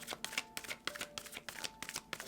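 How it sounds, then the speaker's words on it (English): Tarot cards riffled and shuffled by hand during a reading, a close run of quick papery flutters and snaps in uneven bursts, without voices. "They said shuffle again"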